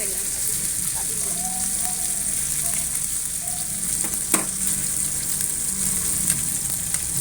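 Eggs with garlic fry in a pan for an omelette, giving a continuous loud hissing sizzle with occasional clinks and scrapes of stirring, while voices murmur faintly underneath.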